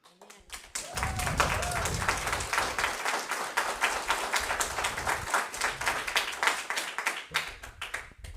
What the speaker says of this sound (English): I see some of you look at the people that are clapping.